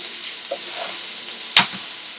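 Onions fry in a pan for Malvan chicken, giving a steady soft sizzle with a faint stir around the middle and one sharp scrape or clatter near the end.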